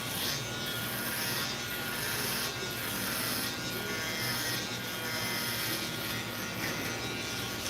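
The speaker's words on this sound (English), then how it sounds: "this is a quick moving shaver" A close electric shaver buzzes continuously, its harsh whirring steady with slight shifts as it moves quickly across hair.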